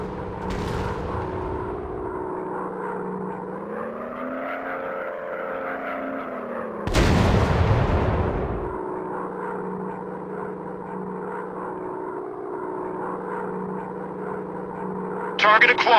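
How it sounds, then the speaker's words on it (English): Warplanes WW2 Dogfight mobile game audio: a steady propeller aircraft drone hums throughout, broken by a loud burst of rocket or gunfire in the middle and another short blast at the end. "Target acquired. Firing rockets."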